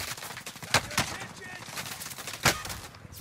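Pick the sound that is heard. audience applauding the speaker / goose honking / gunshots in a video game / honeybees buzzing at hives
gunshots in a video game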